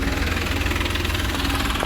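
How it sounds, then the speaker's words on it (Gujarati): A tractor engine idling near a busy yagna and garba festival ground, a steady low rumbling drone that stays constant and fairly loud for the whole short stretch. "બીજું ટ્રેક્ટર આવી ગયું છે કામ માટે"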